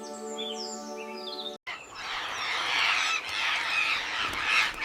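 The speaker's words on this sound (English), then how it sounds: "Macaws fly like living fire across the sky." Macaws squawk in a forest, first a harsh, tonal call, then after a brief gap a dense, loud, continuous chorus of raucous squawks and chirps.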